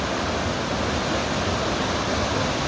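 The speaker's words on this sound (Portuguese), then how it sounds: "Mais acima a segunda cachoeira." A waterfall in Minas Gerais, Brazil roars as a loud, dense, unbroken rush of falling water, close and steady throughout, with no voices.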